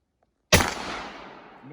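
A Gewehr 71/84 11mm Mauser rifle fires once after a moment of silence, giving a sharp, loud crack that rolls off into a long, fading echo.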